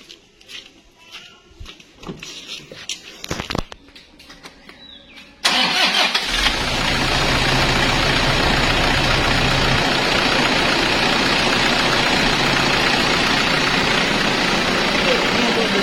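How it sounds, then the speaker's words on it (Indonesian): A diesel car engine cranks over and catches about five seconds in, then settles into a steady, loud, close idle that runs to the end, after quieter handling noises at the start. "kita akan coba nyalakan mesinnya"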